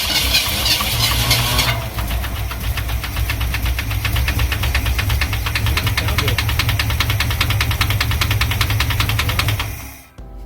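A 1965 Ford F250 engine with a freshly repaired starter cranks briefly, then catches and runs with a loud, steady knocking rhythm for about eight seconds before shutting off near the end.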